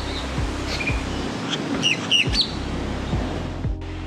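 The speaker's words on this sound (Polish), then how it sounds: "Wydaje się, że najgłośniej krzyczy szpak balijski." Loud, sharp whistled calls and chirps from a Bali myna nearby, repeated in short bursts over a steady background hum.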